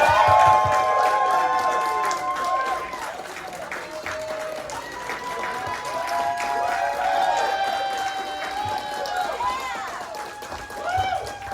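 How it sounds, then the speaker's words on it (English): A convention panel crowd for a Predator film panel claps and cheers loudly and continuously, with whoops and shouts rising over the sustained applause. "So much noise, so much applause."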